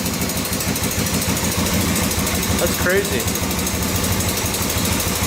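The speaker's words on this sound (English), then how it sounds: "Running pretty good too. It's idling." A 4x4 ATV engine idles steadily and close by, a dense, even chugging that runs throughout with a slight ticking from the top end, while someone briefly speaks over it.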